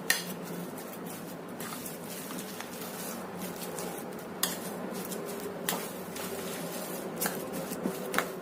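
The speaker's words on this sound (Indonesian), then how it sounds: "Kita aduk sampai tercampur rata semuanya." Tempeh, tofu and potato mixture with seasoning being stirred in a pan, scraping and clinking of a utensil against metal in a steady rhythm, with sharper knocks scattered throughout, fairly faint.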